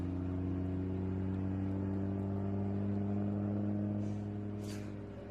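Vintage race car driving at the Watkins Glen SpeedTour, a steady droning engine with a strong low harmonic hum that holds for several seconds and then fades slightly as it passes.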